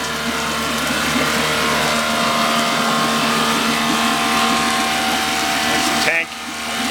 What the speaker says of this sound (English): engine runs nicely, cooling system runs nicely.